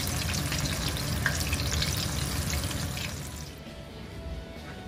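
Strawberries and bananas fry in oil, a loud, dense sizzle that bubbles steadily close by, then eases to a quieter hiss toward the end.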